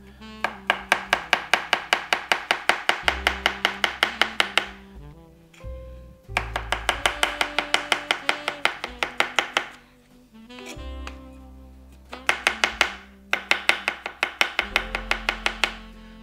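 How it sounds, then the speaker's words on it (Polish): Knife chopping herring into rings on a cutting board, rapid even bursts of sharp taps in several runs with short pauses, close and clear, no talk. "ja je kroję po prostu w takie krążki"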